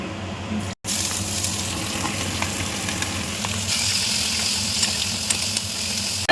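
Cubed onions and curry leaves frying in oil in a pan for a bitter gourd fry, a loud steady sizzle with faint stirring scrapes, heard alone.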